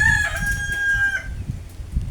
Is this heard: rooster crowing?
yes